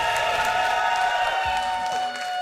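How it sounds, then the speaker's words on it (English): A packed esports arena crowd at the Summoners War SWC2023 Americas Cup applauds and cheers, a steady wash of clapping and voices filling the hall under a continuous tonal hum from the venue sound. "There's the crowd. Let's hear it for those players."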